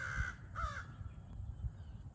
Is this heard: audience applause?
no